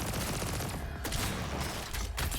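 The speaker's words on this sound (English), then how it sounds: "I love the sounds her character makes though. It's got that almost movie-like explosion to it." Dense, cinematic blasts and rapid gunfire-like bursts from a character's attacks in the Punishing Gray Raven action game, loud and continuous with sharp cracks layered over a booming wash.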